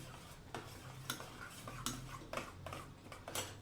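A spoon stirs curd mixed with salt and chili powder in a bowl, giving soft, close scraping and light clinks in an irregular rhythm.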